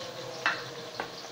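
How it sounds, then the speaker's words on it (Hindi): Marinated mutton for achar gosht fries on high heat in a pan, giving a steady close sizzle with two brief scraping stirs of the spoon over the hiss. "तो यहाँ पे मैं तेज आंच पे भून रही हूँ"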